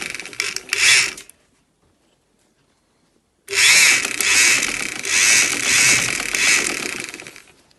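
A sewing machine stitching a fabric face mask, running in a loud whirring burst, stopping for a couple of seconds of silence, then starting again with a longer steady run.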